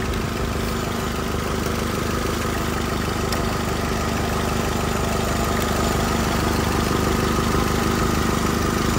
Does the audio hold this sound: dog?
no